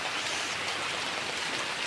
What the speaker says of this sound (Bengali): এত পরিমাণে বৃষ্টি হচ্ছে কি বলবো